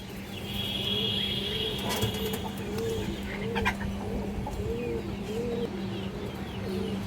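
Pigeons coo in a steady repeating rhythm at a pigeon farm, low, rounded calls close by over a constant background hum, with a few faint clanks and no talking.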